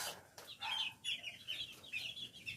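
A champion grey gamefowl rooster clucks in soft, repeated bursts close by, with a faint background and no talking.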